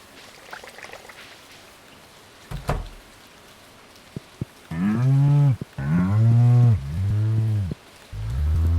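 Cows mooing in the Stardew Valley farming game, a series of loud, close, drawn-out moos one after another, preceded by a few soft clicks and a light patter over quiet ambience.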